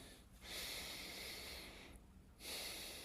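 Slow, deliberate breaths during a guided breathing exercise, two long airy inhales or exhales with a short pause between, close and soft with a breathy hiss.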